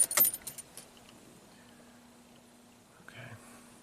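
Keys jangle and click close by as the ignition of a Mercedes AMG is switched on, followed by a quiet stretch with a faint electrical hum and a brief soft chime near the end.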